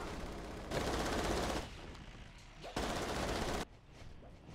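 Machine gun fire in the video game Natural Selection 2, two loud sustained bursts of rapid automatic shots, each lasting about a second, separated by quieter gaps.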